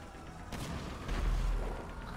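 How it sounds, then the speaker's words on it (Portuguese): A tank cannon fires in the GTA video game, a single deep boom swelling briefly above a low background of game noise. "O tiro nem chega lá."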